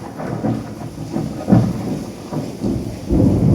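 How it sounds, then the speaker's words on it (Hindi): Low rolling rumbles of thunder swell and fade over a constant wash of heavy rain, deep and boomy, with no voices. "तेज बिजली कड़क रही है"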